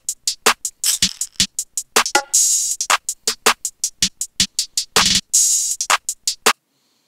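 A GarageBand iOS trap drum pattern with the full kit playing together, crisp hi-hat rolls ticking over punchy kicks and sharp snares, with a steady loud beat running for several bars before stopping cleanly.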